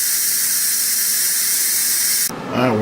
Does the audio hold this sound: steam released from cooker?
yes